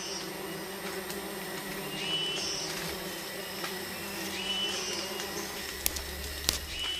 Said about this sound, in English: The sweat bees return instinctively to repair their nest.